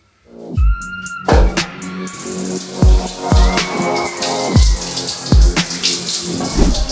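Shower water running and splashing in a bathroom, close and loud, with repeated thuds and knocks of movement under the hiss.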